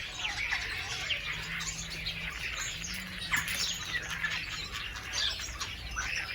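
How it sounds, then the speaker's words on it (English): A flock of starlings perched atop a walnut tree in a Ukrainian village chirps and chatters busily at a distance, a steady twittering wash over faint background hum, in the morning. "Starlings, perched on the top of the walnut tree, chirping happily, meet the morning sun."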